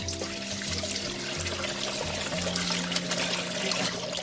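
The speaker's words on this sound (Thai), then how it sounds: "เสร็จแล้วเราก็นำมาแช่ในน้ำเย็นเลยค่ะ เราจะล้างจนกว่าเส้นของเราเย็นนะคะ" Cooked egg noodles for red pork noodle soup are rinsed in cold water, a continuous close splash and trickle of running water under a steady hum, with no voices.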